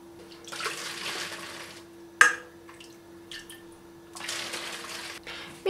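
Thawed sour cherries squeezed by hand into juice, with wet dripping and trickling in two longer bursts and a sharp knock between them, close and fairly quiet.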